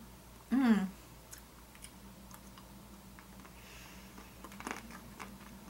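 Dollar Tree Valentine's caramel-filled chocolate being bitten and chewed up close, one brief louder bite early on followed by quiet, soft mouth sounds.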